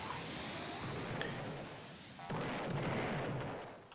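Explosions blasting apart a brick staircase in the Roblox game Doomspire Brickbattle, heard as a steady roar of rumbling blasts with a second heavier burst midway, moderately loud and without talk.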